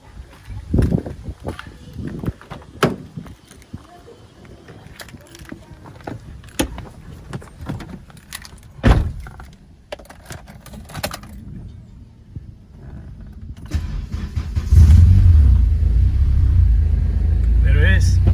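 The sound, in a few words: Honda Accord 7th gen car engine starting and idling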